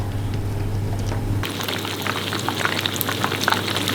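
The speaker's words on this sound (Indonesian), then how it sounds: "kita masukkan ikan goreng." Gourami fish frying in a deep pool of hot oil: a steady, loud sizzle and crackle that swells sharply after the fish goes in, with a low hum beneath and no talking.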